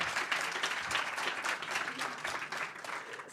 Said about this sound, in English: Yeah, I hear the applause.